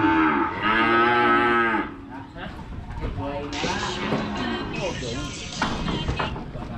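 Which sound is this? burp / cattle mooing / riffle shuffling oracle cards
cattle mooing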